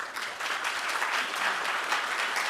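Audience applause for panel speakers at a Cleveland Palestinian community event, a dense, even burst of clapping from a room full of people, sustained throughout.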